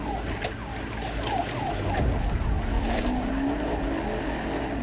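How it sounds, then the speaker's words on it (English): A fleeing suspect's car with a flat tire skids off course during a police chase, its tires scrubbing and engine straining under a steady wash of road noise, loud and close, with no voices. "The vehicle skidded off course and came to its final stop beneath the shelter of a house."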